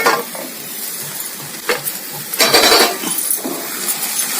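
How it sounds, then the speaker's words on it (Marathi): A metal lid clinks and scrapes off a pan of cooking methi leaves, releasing a soft sizzle and light stirring noises, close and clear with no voices. "आपण भाजीवरचं झाकण काढून घेऊया."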